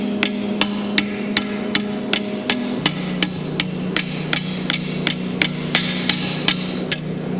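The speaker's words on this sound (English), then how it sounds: "That's where this hammer's quite good, is correcting that" Power hammer forging a wrought iron san mai billet, striking in a steady run of sharp, evenly spaced blows over a low mechanical hum, close and loud.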